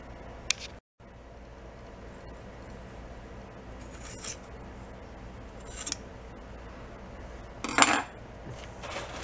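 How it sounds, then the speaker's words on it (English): Scissors trim fiberglass strands during a repair on a Beaver amphibious vehicle, making a few sharp, scattered snips and metallic clicks close up over a quiet background hum. "I'm going to trim back some of this hair."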